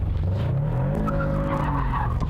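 Car drifting around a track after a clutch kick, a loud engine roar rising under a long sustained tire skid, close and continuous for a couple of seconds.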